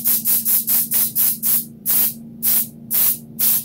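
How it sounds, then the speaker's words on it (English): Baking spray with flour mixed in, coming from an aerosol can, let out in about ten short hissing bursts in steady rhythm. The bursts are loud and close, with a steady low hum running underneath. "this has flour and non-stick spray incorporated into one can"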